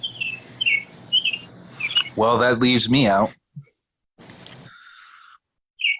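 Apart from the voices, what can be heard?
bird calling loudly on a patio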